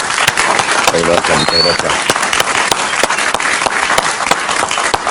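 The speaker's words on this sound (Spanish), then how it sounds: "Un aplauso para él, por favor." A television studio audience applauds loudly and continuously for a welcomed guest, the dense clapping filling the whole stretch while someone speaks briefly over it.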